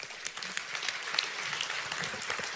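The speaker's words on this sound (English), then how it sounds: "give everybody a hand" A live audience at a Tony Robbins motivational seminar breaks into steady, dense applause, a bright wash of many hands clapping together with no talk over it.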